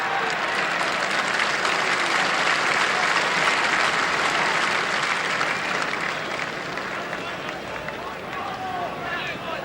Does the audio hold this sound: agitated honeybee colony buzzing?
no